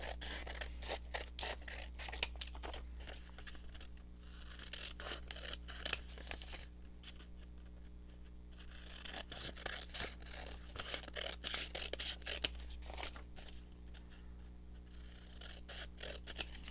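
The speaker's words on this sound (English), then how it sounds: "Going to open up this envelope, and just by cutting the edges off" Scissors cut along the edges of a paper envelope, a steady run of crisp snips and rustling paper, close and fairly quiet, with no voices.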